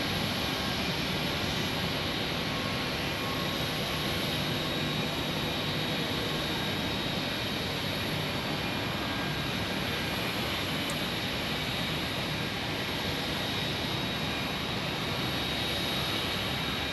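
Southwest flight 210 from Albuquerque, an airliner at Phoenix Sky Harbor, produces a steady, moderate jet engine roar that holds at a constant level throughout, with no talking.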